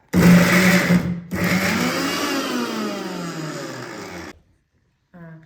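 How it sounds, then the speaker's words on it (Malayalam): A kitchen mixer grinder crushes boiled soybeans in a loud, steady whir that changes pitch as the load shifts, with a brief break near the start, then stops abruptly and is followed by a short faint rattle. "അപ്പോൾ നമുക്കിത് മിക്സിയിലിട്ടിട്ടൊന്ന് ചതച്ചെടുക്കാം."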